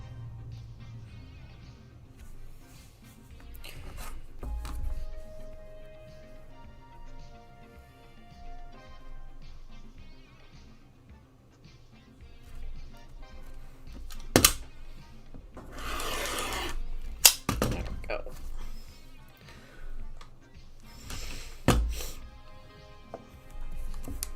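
A piece with a wonky edge being trimmed, heard as intermittent rasping and rubbing strokes, close and moderately quiet, with a few sharper, louder scrapes partway through, no speech.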